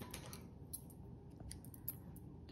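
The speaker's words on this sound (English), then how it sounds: "Just gonna take my scissors and show you." Scissors snip yarn close to a knot, several quiet, sharp metallic clicks spaced irregularly, near and faint against a soft room background.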